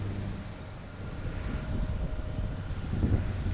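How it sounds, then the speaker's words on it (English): A PAL Airlines turboprop takes off at Boston Logan Airport, heard as a steady, distant low engine rumble mixed with wind noise that swells slightly toward the end. "These turboprop and prop planes, they use half a runway, so they just suddenly take off."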